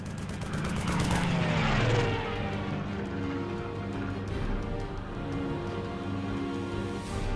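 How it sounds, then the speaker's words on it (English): German fighter plane in the video game Lost Horizon roars past close overhead, a loud engine swell that peaks and then fades into a steady distant drone, with a brief burst of sharp shots early on. "A German fighter plane? He just shot at us!"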